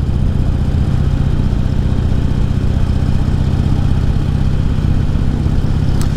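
A motorcycle engine fitted with new injectors runs steadily nearby, a constant mid-low drone with a faint mechanical clatter and no break across the whole stretch.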